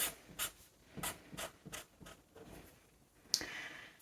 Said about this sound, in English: So I'm going to start on this corner here and draw some lines across